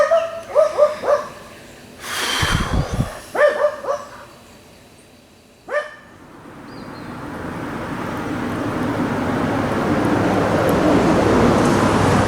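A dog barks several times in short, loud bursts near the microphone, then falls quiet as a rising hiss fills the background.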